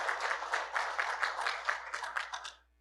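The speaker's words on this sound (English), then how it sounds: "Give them a round of applause." A small group applauds developers at a presentation on IT teaching tools. The clapping is moderate, close and pulsing in even bursts, and it stops abruptly before the end.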